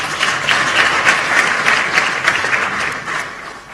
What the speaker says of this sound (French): je pense qu'elles méritent une bonne main d'applaudissements